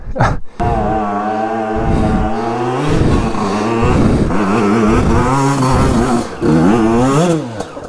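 GasGas 125 two-stroke motorcycle engine revving loud and close while ridden off-road, its pitch rising and falling in repeated bursts as the throttle opens and closes, with a brief cut near the start.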